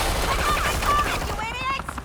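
Gunfire in the video game Batman: The Enemy Within, a loud burst of shots with ringing tones and echoing tails, ending in a few scattered cracks.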